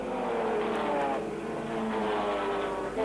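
A P2 Alfa Romeo racing car with a 2.6-litre engine drones past, its harmonic engine note sustained and fairly close, shifting slightly in pitch over a few seconds.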